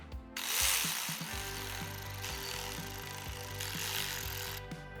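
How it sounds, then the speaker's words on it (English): A ratchet snugs bolts on a BMW CP4 high-pressure fuel pump, giving a close, steady run of rapid clicking strokes with no voices. "we'll go ahead and tighten up these three too"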